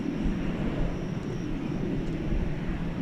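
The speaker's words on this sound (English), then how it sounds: "Singapore Airlines Cargo Flight 79512 Brussels, 747-400." A Singapore Airlines Cargo Boeing 747-400 freighter at DFW Airport at night, heard as a steady, broad engine roar that holds evenly throughout without any voices.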